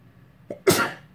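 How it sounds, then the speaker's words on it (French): A single close, sharp sneeze from a woman: a quick intake of breath, then one explosive burst that trails off within a second, alone in a quiet room. "il faut que j'éternue"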